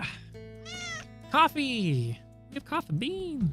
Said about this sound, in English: will you meow into the mic?